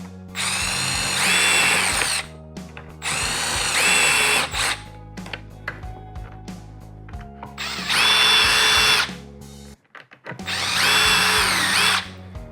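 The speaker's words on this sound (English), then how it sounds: "We're gonna drill out all 4 corners" Power drill with a 5/32 bit boring through a drill guide on a Milwaukee Packout, loud whining bursts in four separate runs with short pauses between, no talking.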